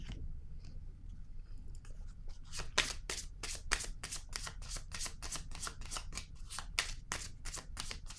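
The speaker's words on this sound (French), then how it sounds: "Je vais déposer une carte ici." Playing cards handled on a tabletop in a card reading, with a rapid run of sharp crisp card snaps and flicks, close and fairly loud, packed densely through the second half with no talk.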